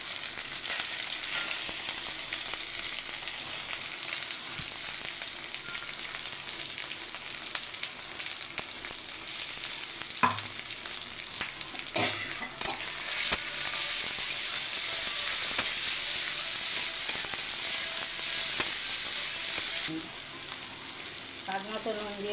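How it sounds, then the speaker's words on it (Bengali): Ginger with onion-garlic paste frying in a pan, a steady close sizzle running throughout with occasional stirring scrapes and clicks. "একটু আদা দিয়ে দেবো, পেঁয়াজ আর রসুন ভেজে পেস্ট করা আছে ওইটা দিয়ে"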